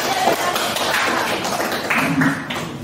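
Applause from a classroom of students after a group presentation on a wired-network internet connection practice, dense overlapping hand claps at close range filling the room steadily.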